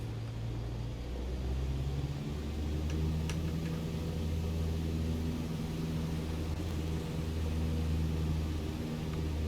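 A simulated Cessna 152 piston engine drones in a steady, low, rumbling hum as the light plane is put into a spin in Flight Simulator 2020, its pitch shifting slightly, with no voices.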